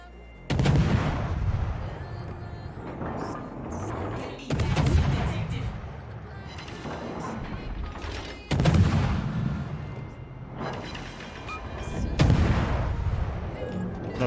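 Khabarovsk destroyer's guns firing in a naval video game, four heavy booming salvos spaced a few seconds apart, each with a long rumbling tail, and someone talking faintly underneath.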